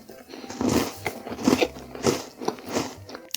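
Someone bites into a crunchy low-sugar Lotte Zero chocolate cookie up close. Several crisp bites and crunches are followed by chewing, and no one is talking.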